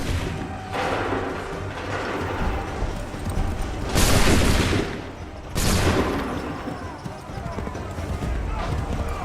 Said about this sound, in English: Hold fire. Make ready. Shoot!